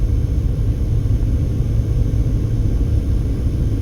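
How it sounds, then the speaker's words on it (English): A car motor strains as it climbs uphill into the foothills near Henderson, Las Vegas, a steady, loud low rumble that holds even and continuous with no talk over it. "climbing, the motor getting a little loud there as we're going up into these foothills"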